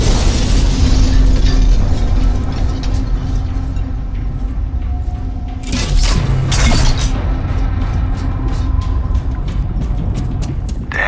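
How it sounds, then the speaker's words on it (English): A Promethium explosion in the sci-fi shooter Alien Rage: loud crashing bursts and booming blasts with clattering debris, part of a dense, harsh mix lasting over ten seconds. "Won't take a Promethium explosion."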